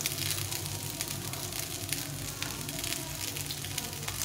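Tomato pieces hitting a hot pan sizzle and fry in a steady, dense crackle that stays close and even throughout, with no talking.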